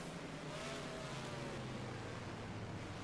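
A stock car engine revs at New Hampshire Motor Speedway in the video game NASCAR Racing 2003, a faint, distant, continuous drone blended with a wash of steady noise.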